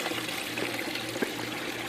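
Water drains steadily through the siphon of a homemade aquaponics system, a continuous close pouring trickle with a faint low hum beneath and one small splash near the end.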